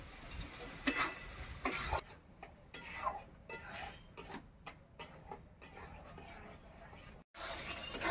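Pumpkin laddu mixture of pumpkin paste and sugar being stirred in a pan, a soft repeated scraping and rubbing of a spatula against the pan in irregular strokes, close and fairly quiet.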